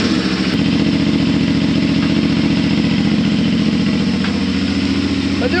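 A CFMoto 450 motorcycle fitted with a new exhaust fires up and settles into a steady, throbbing idle, loud and close, with a low pulsing rumble that holds evenly to the end.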